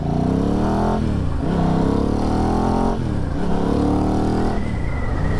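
A Ducati Hypermotard motorcycle is ridden hard, its engine revving up in repeated rising sweeps through the gears, loud and close with a rough, throbbing exhaust tone.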